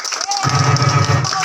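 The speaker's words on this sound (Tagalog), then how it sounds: "Palapak po na may kasamang sigawan!" Party guests at a birthday celebration clapping, cheering and shouting together, a dense steady burst of crowd noise with a voice over the top.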